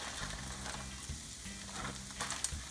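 Broccoli slaw hitting a hot oiled pan for a stir-fry gives a brief sizzle under a low hum, close and without voices.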